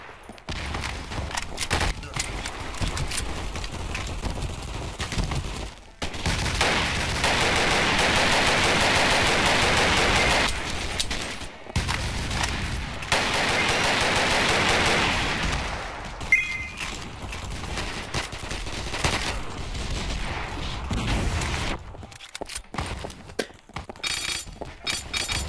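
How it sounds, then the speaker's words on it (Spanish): Sustained bursts of automatic gunfire from the multiplayer shooter Double Action: Boogaloo, loud and dense in long stretches with brief pauses between volleys, alongside scattered single shots and game sounds. "Así que le disparo a cualquier cosa que se mueve."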